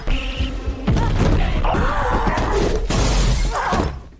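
A glass vase shatters in a loud crash, followed by thuds, scuffling and tumbling debris during a violent struggle, close and forceful.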